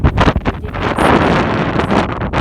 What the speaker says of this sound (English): Sorry, it's pretty windy today.